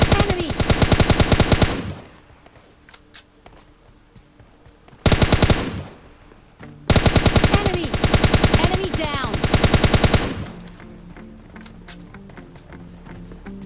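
Rapid bursts of automatic gunfire from the PUBG Lite battle-royale game, loud and dense in two long stretches with a short burst between, separated by quieter in-game ambience and footsteps.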